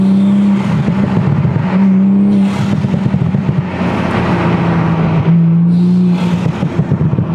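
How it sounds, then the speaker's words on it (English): A Toyota Supra engine with an HKS carbon intake and titanium exhaust drones loudly up close while a steady rising turbo whine sits above it, and the engine surges and eases off in cycles. "Oh, can you hear the turbo?"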